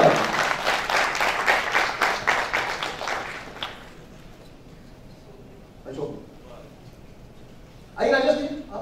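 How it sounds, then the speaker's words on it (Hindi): Loud audience applause at a business leadership seminar as a guest is welcomed, a strong round of clapping for about four seconds that fades out, followed by brief speech. "जोरदार तालियां करें।"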